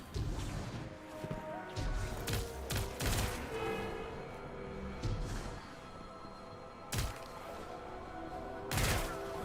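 Gunshots ring out in Destiny 2: Lightfall as puzzle targets are shot, scattered loud cracks and short volleys over a busy game background, with no talking.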